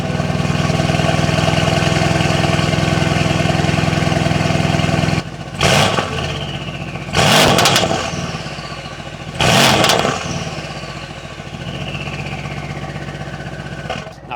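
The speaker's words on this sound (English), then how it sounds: "it just really opens up that exhaust and you really hear that beautiful AMG growl that everybody wants" A Mercedes-AMG engine fires up with a loud exhaust burst and settles into a steady, close idle, followed by three sharp revs that rise and fall, then a calmer idle.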